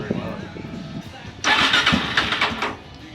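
A cold motorcycle engine starts for a test ride after servicing, first a low cranking churn and then a loud catch into rough revving that fades back down, close and prominent.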